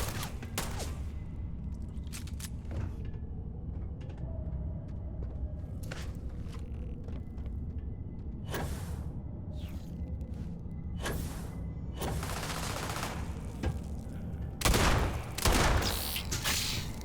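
Gunfire in Starfield: repeated sharp shots in irregular bursts, some single cracks and some rapid clusters, close and loud over a low ambient rumble, with a heavier volley near the end.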